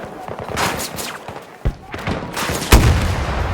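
An RPG is fired at an armored tank in a first-person shooter, Call of Duty Modern Warfare 2 or Battlefield 2042, giving sharp loud blasts and rumbling explosion noise amid a busy stretch of gunfire-like bursts.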